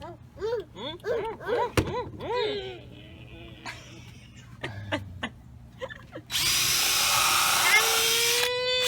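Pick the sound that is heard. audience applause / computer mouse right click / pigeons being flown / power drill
power drill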